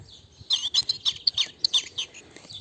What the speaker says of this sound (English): Here is the bird.